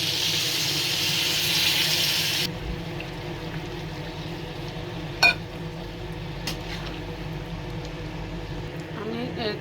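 Hot water goes into a pan of hilsa fish curry cooked with onions, making a steady rushing hiss for about two seconds before cutting off. A quiet room tone and a single sharp clink follow.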